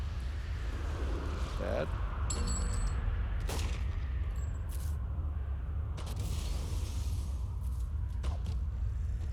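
Archery ranged shot attacks in City of Heroes from an archery/tactical arrow blaster: several sharp bursts and whooshes over a constant low rumble of game audio, with a voice talking over them.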